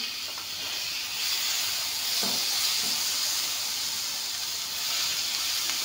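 Tomatoes tossed into a pan on very low heat, where pointed gourd and bitter gourd are already frying, give a steady, soft hiss and sizzle throughout with no voices.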